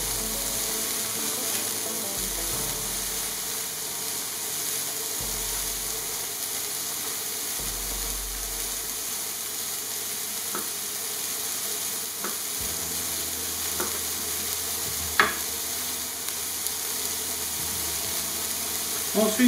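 Sea bass browning quickly in a hot pan for a braised Basque-style dish, giving a steady close frying sizzle and hiss throughout, with a few faint clinks near the end.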